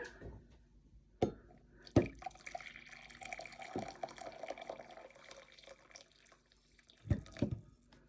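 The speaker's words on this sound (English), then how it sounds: "I have my boiling water in my kettle, and I'm gonna measure it at eye level" Boiling water poured from a kettle into a measuring cup, a quiet trickling, splashing pour with a few sharp knocks and clinks from handling, close by and alone.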